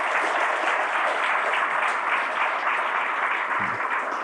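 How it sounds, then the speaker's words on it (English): Sustained audience applause at a conference event, a steady dense wash of many hands clapping that stays loud and even throughout with no talk over it. "And a round of applause."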